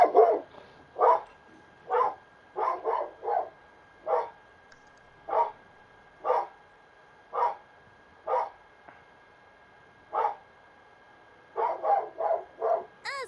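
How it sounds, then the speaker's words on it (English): A dog barks repeatedly in the background, about a dozen sharp, evenly spaced barks with a few quick doubled bursts, moderately loud and with no talking over them. "Sorry about the dog."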